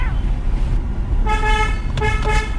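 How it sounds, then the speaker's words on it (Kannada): A car horn blares twice in a steady tone over low engine and road rumble inside a vehicle, the second blast short and clipped. "ಏ ಅದಕ್ಕ ಹಾರ್ನ್ ಅಂತಾರ."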